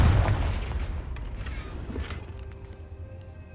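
A Confringo blasting spell detonates in the Hogwarts Legacy video game, a loud booming burst at the start that rolls off into a long fading rumble with a few faint crackles trailing behind.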